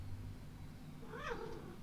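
A short, faint cat meow rises briefly over a steady low room hum, a single call near the end.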